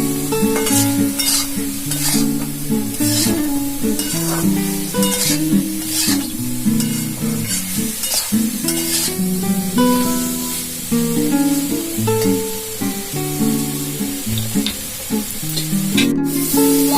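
Fried potatoes being stirred into hot spices in a pan for a Punjabi-style mixed dal, with a continuous sizzle and frying hiss throughout, played under steady background music.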